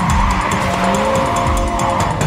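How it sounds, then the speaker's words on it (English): A car's brakes slam on with a loud tire screech over a steady engine roar, sustained for a couple of seconds, in a canyon race in the video game Need for Speed Carbon. "this very specific brake pedal sound"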